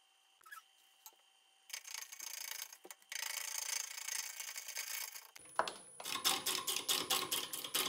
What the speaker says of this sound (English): I'm starting out pretty slow here. I've only got the lathe turning at about 280